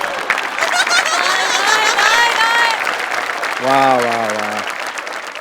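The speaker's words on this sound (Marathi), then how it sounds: "वा, जोरदार टाळ्या." Audience applause fills a Marathi comedy stage show as a prize is announced, a steady wash of many clapping hands with crowd noise. A voice exclaims in delight over the clapping near the end.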